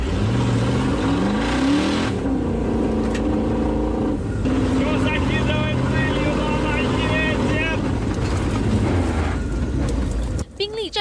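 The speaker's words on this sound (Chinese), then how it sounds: "战车开始加速" A modified Bentley converted to run on crawler tracks accelerates, its engine a loud, sustained roar with rising revs and track rumble, while a voice speaks over it.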